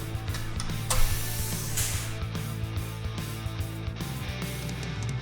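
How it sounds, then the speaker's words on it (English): A hand flanging tool crimps the edges of a steel frame rail patch for a 1971 Camaro torque box repair, making loud, rhythmic repeated mechanical clicks and clunks close up, with no talking. "I need to flange these edges so that I have a nice piece that fits inside the other"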